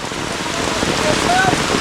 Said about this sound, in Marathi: सगळीकडून पाणीच पाणी पाऊस भरपूर पडतो